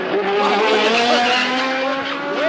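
A 1990 Atlantic Series open-wheel race car locks its brakes into a turn, tires squealing and skidding loudly alongside the whining engine, a continuous close scream of rubber that barely fades before trailing onto an escape road.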